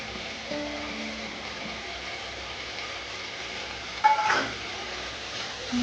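Nut paste and tomato stir-fried in a pan give a low sizzle, with a sharp scrape and clatter of a spatula against the pan midway.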